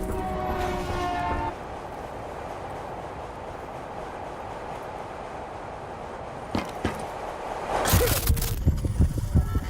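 A maglev train racing through a futuristic city in Call of Duty: Black Ops III, a steady rushing rumble that holds for several seconds before sharp metallic impacts and louder crashing noise near the end.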